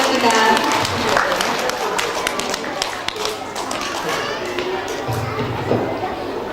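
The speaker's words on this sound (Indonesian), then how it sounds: "Beri tepuk tangan sekali lagi yang meriah buat teman-teman kita." Applause from an audience at a kindergarten graduation and arts performance, a busy crowd noise of clapping mixed with children's voices and movement, loud and continuous throughout.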